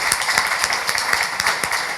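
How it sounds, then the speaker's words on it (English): A candidates forum audience gives a round of applause, with many hands clapping in a steady, moderately loud patter and a few sharper claps standing out. "Maybe I can ask everyone to give a round of applause and thank you for that."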